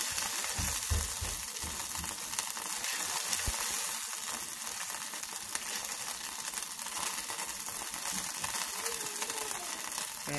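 Cream cheese melts in a pan with a steady, soft, even sizzle that runs continuously throughout, fairly quiet and close, with light stirring scrapes early on.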